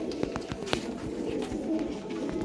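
Pigeons cooing at a loft where fancy breeding pigeons are kept, with soft repeated coos and scattered bird calls over a steady murmur of background noise.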